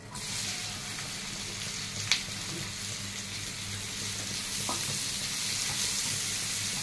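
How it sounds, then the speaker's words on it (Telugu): Chopped onions with cardamom, cloves and cinnamon sizzle steadily in hot oil for palak paneer, a continuous close frying hiss with a brief stir or clink near the two-second mark and no talking. "ఆనియన్స్ కూడా వేసి ఫ్రై చేయాలి."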